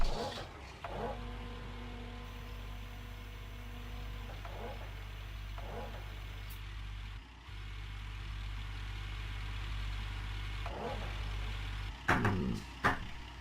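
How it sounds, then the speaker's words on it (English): A vehicle engine in the Gold Rush video game cranks and settles into a steady low idle that runs for several seconds, with a few clicks and bumps over the rumble. "Let's start up the engine."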